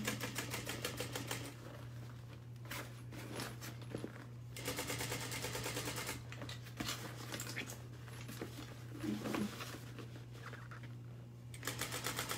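A sewing machine runs a seam in rapid ticking bursts that stop and start, with a low steady hum beneath, close and fairly quiet.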